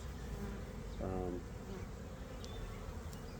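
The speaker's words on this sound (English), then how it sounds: "There's too many bees in here." Honey bees crowd an open hive during a swarm-prevention check, a soft continuous buzzing hum with one louder bee passing close by briefly.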